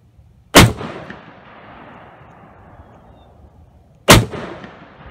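A Browning BAR Mark II Safari rifle fires two loud, sharp shots several seconds apart, each crack followed by a long decaying echo across an open range, with no voices.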